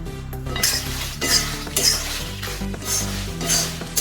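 About 100 grams of red chillies are dry-roasted in a pan with curry leaves, heard as close, repeated scraping and stirring of a utensil against the metal pan with light clinks.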